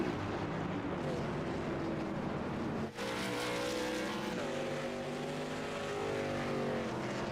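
USRLA late model race cars roar around North Wilkesboro, a loud, continuous multi-engine drone with shifting pitches as cars pass, with a brief dip near three seconds before the roar resumes.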